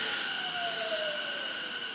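A Tobu Tojo Line local train, a 50000 series set numbered 51005, pulls into Yanasegawa station with a steady hum and a thin wheel squeal that glides slowly downward.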